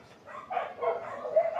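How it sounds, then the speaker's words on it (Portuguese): Several dogs bark and yip in a quick, uneven run of calls, sounding faint and somewhat distant, with no talking over them. "não liga porque a cachorrada aqui falar pra você"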